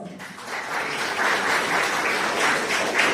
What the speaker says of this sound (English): So once again, a huge round of applause